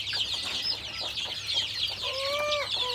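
Chicks, three weeks to a month old, chirp in a brooder once the cover is lifted, a dense chorus of high peeping with a few clearer calls near the end, close and continuous.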